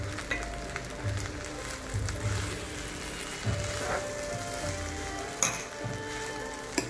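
Rice stir-fried with pre-fried eggs in a pan, a steady sizzle broken by repeated thuds and scrapes of a spatula tossing and turning the mixture.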